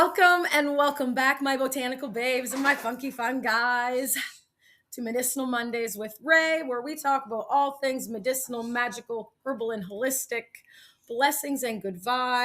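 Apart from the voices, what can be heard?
None of the usual background noises is heard.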